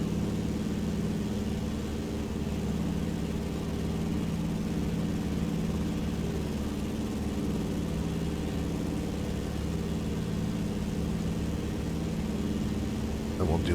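The engine of a Beaver aircraft in Microsoft Flight Simulator 2020 drones steadily and loudly throughout, a constant low rumbling hum without breaks.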